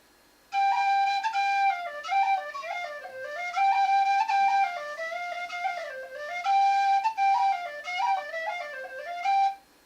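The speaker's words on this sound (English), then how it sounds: "I play it on a C whistle" A C tin whistle plays a lilting folk melody alone, bright and clear, with short phrases and brief breaths between them, close and fairly loud.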